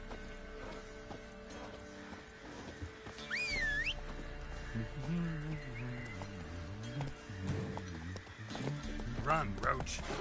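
Roach the horse galloping in The Witcher 3, a steady drum of hoofbeats with occasional whinnies under game music and character dialogue.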